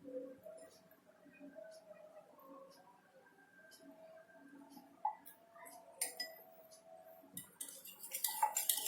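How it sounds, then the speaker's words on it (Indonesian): Spoon stirring orange juice mixed with sweet soy sauce in a small glass or bowl, making light scattered clinks and scrapes that grow busier toward the end, with soft background noise. "Diaduk-aduk sampai merata."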